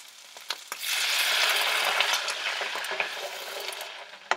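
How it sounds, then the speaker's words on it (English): Bouillon cubes get stirred around in a pan, producing a soft sizzling hiss with light scraping and occasional clicks of the utensil against the pan, fairly close and steady. "So I'm just adding these bullion cubes to my pan. I'm going to stir it around for a second."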